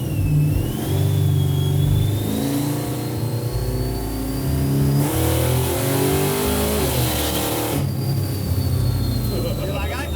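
A 900 hp supercharged six-wheel Chevy C10 pulls hard, its engine roaring loudly and steadily with a high whine rising over the drone, close-up from inside the truck and continuous throughout.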